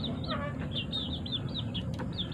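Chickens on a provincial farm in the Philippines cluck and chirp in a quick series of short calls over a constant low background rumble.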